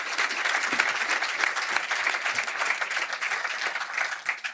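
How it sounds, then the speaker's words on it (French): An audience applauds Vendée Globe winning skipper Vincent Riou at a sailing event, a dense, steady round of clapping from many hands that continues throughout. "Je vous demande d'applaudir Vincent Rioux."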